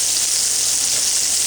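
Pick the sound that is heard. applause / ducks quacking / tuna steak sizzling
tuna steak sizzling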